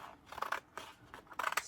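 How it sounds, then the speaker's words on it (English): Scissors trim a sheet of white glitter paper in a few quick, close snipping bursts, crisp and fairly quiet, with no talking. "I'm going to trim this before I put it through the cutter"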